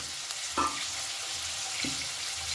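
Fried potatoes being stirred into a kohlrabi and prawn curry in a pan, with a constant soft sizzle and two brief scraping stirs of a spoon against the pan, close by and with no voices.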